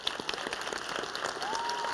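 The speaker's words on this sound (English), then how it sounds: "Let's give our speakers a round of applause." Audience at an academic excellence ceremony applauding its speakers: a short burst of dense, steady clapping from a crowd, moderately close.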